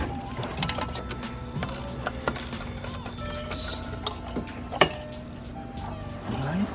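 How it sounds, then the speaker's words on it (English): A ratchet unbolting the throttle body in a car's engine bay, with irregular clicking ratchet strokes, metallic clinks and a sharp clank, close up over a low background hum. "Then we're gonna bolt off this throttle body."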